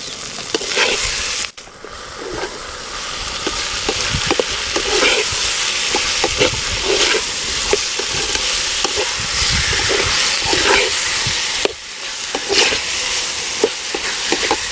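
Tomatoes sautéing with coarse rock salt in a pan during village-style cooking, giving a steady close sizzle and frying crackle with repeated stirring scrapes throughout, briefly dropping out near the start and again around twelve seconds.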